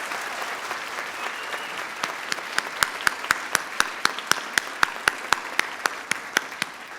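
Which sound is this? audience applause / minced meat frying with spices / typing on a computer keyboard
audience applause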